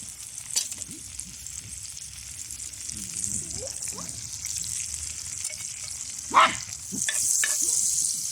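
Wild mushrooms fry in butter on a small twig stove outdoors, a soft continuous sizzle and hiss with occasional spattering pops and a louder crackling burst toward the end, heard close.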